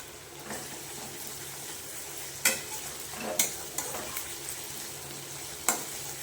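Ginger paste frying in a pan with garlic paste, a soft steady sizzle broken by several sharp scrapes and knocks of a spatula stirring, close and fairly quiet.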